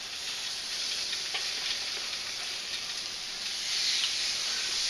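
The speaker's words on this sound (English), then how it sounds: "You can hear that sizzling." Salmon searing flesh side down on a hot Himalayan salt block, giving a steady, close, bright sizzle and hiss that holds evenly throughout and swells slightly near the end, with no talking.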